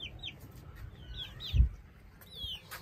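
Hens and a rooster cluck softly in a farmyard coop, with a few chirpy upward calls and one louder low thump midway, the birds moderately close.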